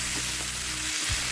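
Keski fish fries with eggplant in a hot pan, giving a loud, dense, continuous sizzle, with a brief scrape as it is stirred.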